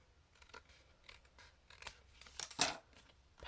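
Scissors trim excess paper from the edge of a handmade greeting card, with a few light snips and rustles followed by a louder, close cluster of cuts near the end.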